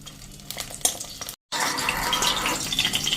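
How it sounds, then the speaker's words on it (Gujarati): Dried red chillies frying in hot oil, a busy crackle and stirring clatter that breaks off briefly, then returns as a brighter, steady sizzle. "આને આપણે વધારે કૂક નથી કરવાના, ખાલી ફૂલે ને એટલા જ આપણે તરવાના છે તેલમાં."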